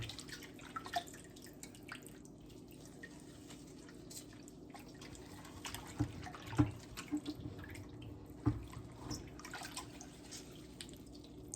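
Fresh mozzarella curd being stretched and dipped back into a basin of water, soft drips and small splashes with a few sharper plops, faint and close, no talk.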